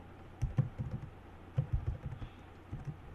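Keys tapped on a computer keyboard while a password is entered during a PostgreSQL database setup, coming as short clustered bursts of soft clicks with brief pauses between them, close and fairly quiet.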